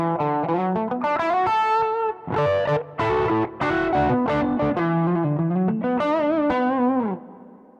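Electric guitar through a Zoom GFX 707 multi-effects Room 335 preset: chords and melodic lines with a heavily processed tone, distorted with chorus shimmer and reverb, played alone, ending on a ringing sustained chord.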